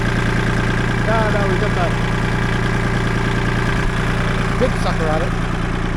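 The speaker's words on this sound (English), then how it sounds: "And the tractor lifts it, just barely." A tractor engine idles and labours steadily while lifting a heavy 10-foot log at a sawmill, a constant low rumble with someone talking briefly over it.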